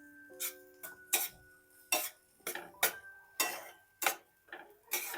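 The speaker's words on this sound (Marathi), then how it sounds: "हे अंड पण आपल्याला यात मिक्स करून घ्यायचं आहे" Utensil scraping and tapping against a pan while a cracked egg is stirred into Anda Ghotala, a street-style egg dish, in a series of about ten sharp, close, irregular clinks and scrapes, with no one talking.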